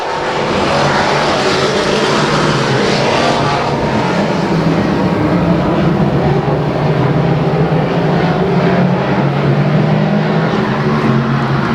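Loud, continuous roar of race cars at speed on an oval short track during a Sunday showdown, engines droning steadily throughout with a shifting pitch as the field passes, no voices.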